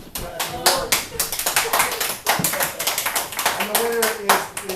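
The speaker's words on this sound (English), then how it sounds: "You guys applauding." Audience clapping at a workshop event, dense and steady hand claps close by for the whole stretch, with voices speaking over the applause.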